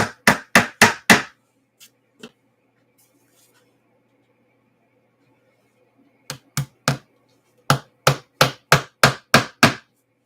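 Hammering while canvases are prepped: a fast run of five sharp, close blows, a couple of lighter taps, then two more bursts of rapid strikes after a quiet pause.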